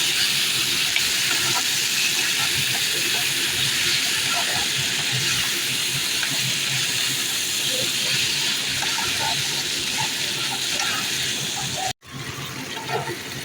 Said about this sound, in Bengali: দেখুন এখন আমি জল দিয়ে দিচ্ছি।